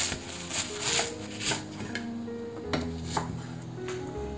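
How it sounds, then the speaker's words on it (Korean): A knife cuts garlic chives into short 4–5 cm lengths on a cutting board, giving a series of crisp, irregular taps and thuds up close over a soft background hum. "부추는 4, 5cm 정도 손가락 두 마디 정도 길이로 잘라주세요"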